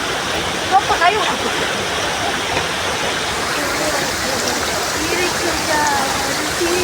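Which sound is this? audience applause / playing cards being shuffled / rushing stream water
rushing stream water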